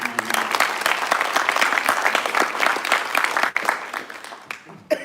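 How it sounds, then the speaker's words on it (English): A town hall audience applauds warmly, dense clapping that fades out toward the end, followed by a brief sharp noise. "Let's give him a round of applause for showing up for time."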